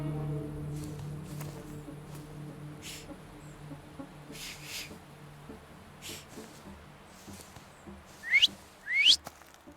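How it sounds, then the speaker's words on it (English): Two short rising whistles near the end in the video game The Thaumaturge, quick upward-sliding tones over a quiet ambient background with scattered soft clicks and faint tonal hum. "have you mastered whistling?"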